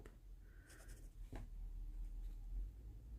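A cheap fountain pen scratches across a Field Notes notebook page, giving faint, close nib strokes and a couple of brief squeaky swipes over a low background hum, with no speech.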